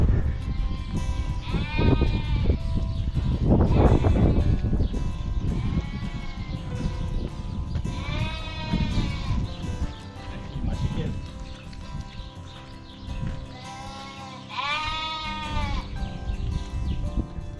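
Sheep bleat repeatedly at a historic sheepfold on a countryside trail, several wavering calls rising over a busy, close farmyard background of shuffling and rustling.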